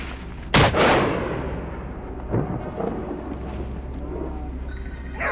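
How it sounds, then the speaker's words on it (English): A single loud gunshot booms and echoes away during a wild boar hunt, followed a couple of seconds later by a softer second shot amid a low rumble. "he pulls the trigger and gunshots ring out in rapid succession"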